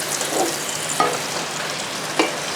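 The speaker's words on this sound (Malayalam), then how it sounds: "അപ്പോൾ ബാക്കിയുള്ള എണ്ണയിലോട്ട് ഞാനൊരു മൂന്നാല് വറ്റൽമുളക് അങ്ങോട്ട് മുറിച്ച് അങ്ങോട്ട് ഇടുകയാണ്" Dried red chilies, cut into pieces, fry in hot oil with a steady soft sizzle and a couple of sharp clicks from stirring, close by and without talk.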